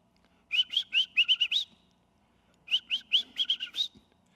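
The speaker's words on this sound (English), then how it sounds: "So you hear that, and yellow warblers are sort of all over the place." Yellow warbler song in North America: two clear, separate bursts of bright, rapid whistled notes, each a quick series of about seven sweet chips rising at the end, close and loud against a quiet background with no talking.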